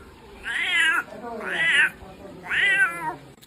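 A person imitates a cat's meow, giving three drawn-out, rising-and-falling meows about a second apart, fairly loud and close, with quiet gaps between them.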